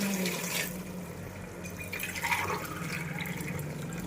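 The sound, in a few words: water being poured into pot for chicken biryani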